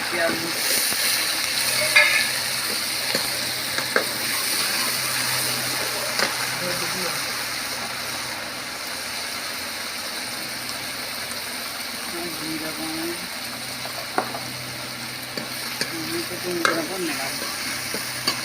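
Onions and cumin frying for tadka in a pan over a traditional clay stove, a steady sizzle and stirring running throughout at moderate level, with occasional clinks and faint talk in the background.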